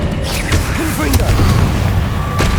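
A Confringo blasting spell bursts in Hogwarts Legacy, a loud boom with sharp crackling pops and a trailing rumble, followed by another crack near the end.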